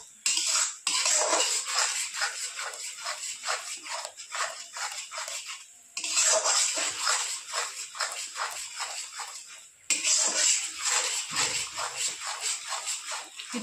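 A paste of ginger, onion, garlic and tomato is stir-fried in a pan with a metal spatula, which scrapes and clatters in quick rhythmic strokes across three bursts separated by brief pauses.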